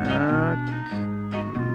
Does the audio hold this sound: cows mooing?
yes